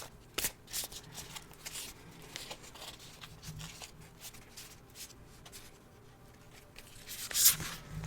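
A deck of crystal oracle cards is shuffled close up, a soft continuous riffling and sliding of card stock with a few sharper flicks and snaps, no talking over it.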